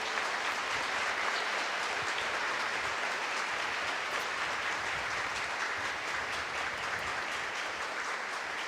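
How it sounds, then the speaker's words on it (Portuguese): Applause from a church congregation in a steady, even wash of clapping that lasts throughout, moderately distant and fairly quiet, with no voices over it. "Uma salva de palmas para Jesus."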